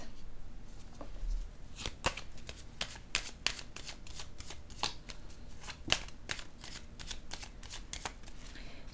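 Tarot cards being shuffled at close range, a quiet continuous riffle broken by repeated sharp snaps and taps, with no voices.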